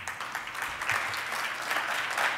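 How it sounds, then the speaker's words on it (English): Brief, fairly quiet audience applause at a live conference session, a steady wash of clapping throughout with no speech over it. "Another round of applause."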